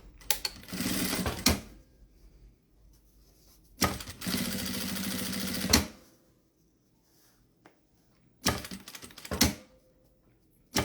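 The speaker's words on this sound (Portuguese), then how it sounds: "passar viés em volta da nossa abinha aqui" Sewing machine stitching bias binding around a small fabric flap, three separate loud bursts of rapid mechanical whirring with quiet gaps between, close and without talk.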